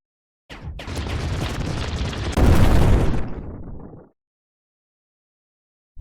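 Blaster fire in the video game Dungeons & Blaster comes as a dense, loud rattling burst of shots lasting a few seconds, swelling louder midway, then cutting off into silence.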